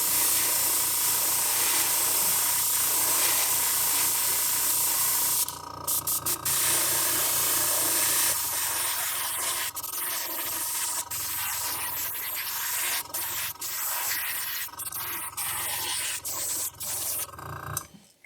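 Airbrush or spray gun laying one light base coat over an entire crankbait lure, a steady close hiss running nearly without pause, briefly interrupted around the middle and near the end.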